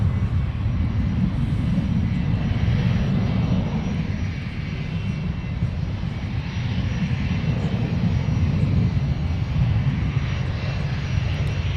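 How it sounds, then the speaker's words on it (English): A business jet taxis on an airport taxiway at Minneapolis–St. Paul, giving a steady, fairly loud engine rumble and whine that holds throughout. "we got some BizJet action here in Taxiway Whiskey"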